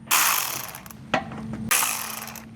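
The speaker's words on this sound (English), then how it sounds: "now we're going to remove two 10mm screws here." A hand ratchet loosens 10mm screws on a 2025 Toyota 4Runner, giving two quick bursts of close, rapid clicking separated by a short pause and a small clack.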